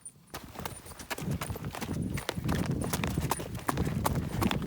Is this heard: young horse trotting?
yes